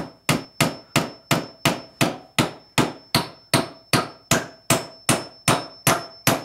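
Steady hammering of nails into wood while building beekeeping equipment in a backyard, about fifteen sharp, evenly spaced strikes close by, each ringing briefly.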